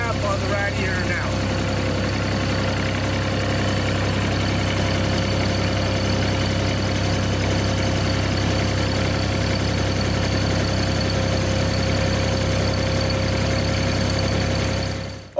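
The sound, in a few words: Bobcat 463 skid steer loader engine idling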